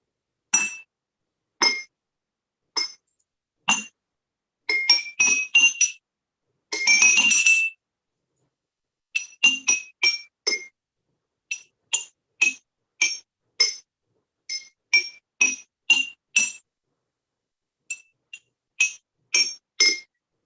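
Drinking glasses made of different materials struck one after another, giving bright, ringing clinks in quick runs and single taps, some with a longer shimmering ring, with no voices.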